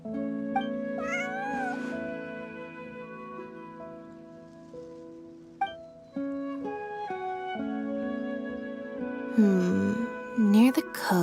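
An in-game cat meowing in Genshin Impact, several short pitched meows spread through the clip over soft game music, with a couple of louder, higher cries near the end.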